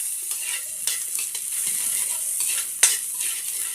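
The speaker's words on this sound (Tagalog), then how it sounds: "Isasalin na natin ang garlic and onion." Garlic and onion sizzle steadily in hot oil while sautéing pancit, a close, bright frying hiss broken by stirring scrapes and one sharper clatter partway through.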